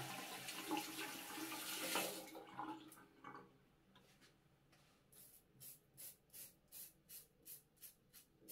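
Water from a tap runs strongly as a razor is rinsed, then eases off into a series of regular splashing pulses, like the blade being tapped or swished under the stream.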